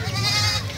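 A desi goat bleats once, close and steady, among livestock for sale at the Shahpur Kanjra goat market in Lahore.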